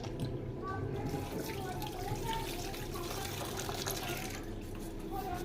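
Pumpkin flowers being washed in water, a continuous close splashing and trickling, like a running tap, lasting throughout at moderate level, with faint voices in the background.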